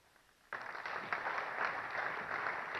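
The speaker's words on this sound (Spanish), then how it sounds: "Un fuerte aplauso para la licenciada Alejos" Audience applause at a Guatemalan business council presidential candidates' debate starts abruptly after a quiet moment, then continues as steady, moderately loud clapping from a crowd of many hands.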